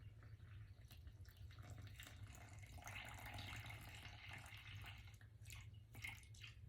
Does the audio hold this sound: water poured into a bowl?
yes